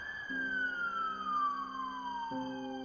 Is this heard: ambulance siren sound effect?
yes